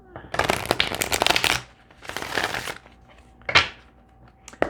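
A deck of tarot cards is shuffled up close in several loud, crisp riffling bursts separated by short pauses, with a brief final flutter at the end.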